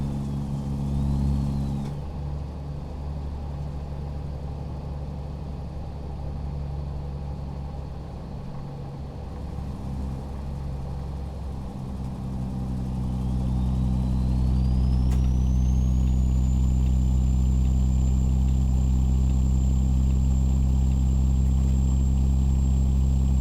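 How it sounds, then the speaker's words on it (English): CMOD 3406E engine in a Kenworth W900 truck in American Truck Simulator; a deep, mellow diesel drone idling and then building as it revs up, with a rising whine, steady and close without talk. "That's the mellow sounds of CMOD's 3406E as an Edward. Really becoming my go-to engine."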